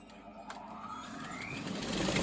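A sewing machine stitches a fabric scrunchie seam, its motor hum rising steadily and growing louder toward the end, heard close and alone without talk.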